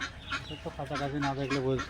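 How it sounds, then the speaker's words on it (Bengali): Several ducks of mixed breeds on a duck farm in West Bengal quack and honk nearby in a short burst of overlapping calls. "হাঁস মানে দু তিন রকম হাঁস দেখতেছেন"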